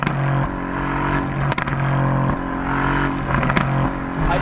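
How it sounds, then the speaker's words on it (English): A sports car engine idles with a deep throaty exhaust burble, punctuated by a few sharp blips and pops, close and loud. "It's all about that exhaust sound."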